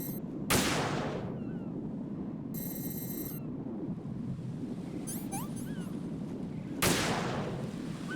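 Two sharp, loud gunshots ring out about six seconds apart in the Metal Gear Solid 2 video game, each one trailing off into a short echoing decay over a low ambient rumble, with brief electronic beeps in between.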